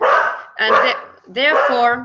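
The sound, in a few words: dog barking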